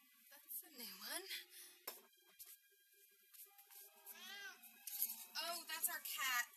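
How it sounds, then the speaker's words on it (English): A pet cat meows in a house, several drawn-out, rising and falling meows over roughly six seconds, fairly close, with people talking around it. "that's our cat, Boris."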